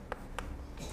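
Two quick scratchy strokes of writing on a board during a Korean civil law lecture, faint against a steady room hum.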